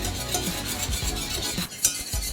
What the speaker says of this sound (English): Keep stirring it while adding more liquid.